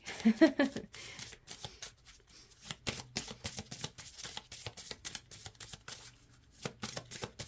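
Oracle cards from the Wisdom of the Hidden Realms deck being shuffled by hand, with a quick run of crisp, papery riffles and slaps that carries on steadily and sits fairly close.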